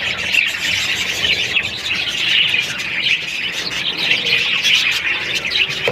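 A flock of budgerigars chirping busily while eating, a dense, continuous chatter of bright high tweets close by, with no talk over it.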